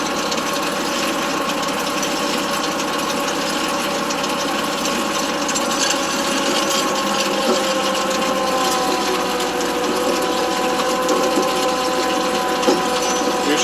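A Farmi skidding winch mounted on a farm tractor drags a felled tree toward the machine, giving a steady, loud mechanical drone with faint creaking and ratcheting that runs unbroken the whole time.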